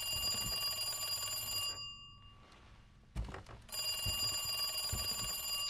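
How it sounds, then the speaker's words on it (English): An old dial telephone in the Resident Evil 2 Remake game rings with loud, continuous metallic bell bursts, broken by a short pause and a thump before the ringing resumes. "Phone's ringing."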